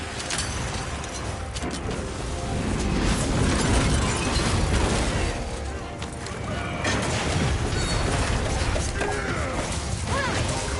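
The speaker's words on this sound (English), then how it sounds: "The mustard bomb is mustard bombing." Chaotic in-game blasts and crashes from a mustard bomb going off in Monster Hunter Wilds, a dense, continuous roar of impacts and bursts with loud rumbling throughout and some voices underneath.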